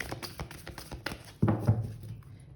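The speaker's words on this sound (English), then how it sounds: "give it one more shuffle" Tarot deck shuffled by hand, a quick run of soft papery taps and riffles ending in a louder flurry of card slaps, close and alone with no talk.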